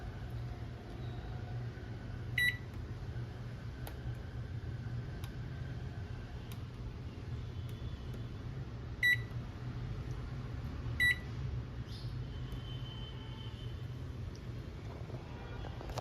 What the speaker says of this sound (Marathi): मी मायक्रोवेव्हमध्ये ठेवलेलं आहे बघा आता आणि दहा मिनटं लावणार आहे